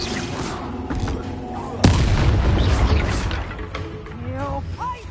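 The Confringo explosion spell in Hogwarts Legacy lands as a sudden sharp boom amid chaotic battle noise, with rumbling debris afterwards and game voices calling out.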